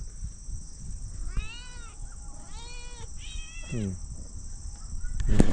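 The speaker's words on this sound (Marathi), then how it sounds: "ही जगाईगळीच मांजर आहे ती" A stray cat meows three or four times close by, the calls drawn out and wavering, over a low background hum.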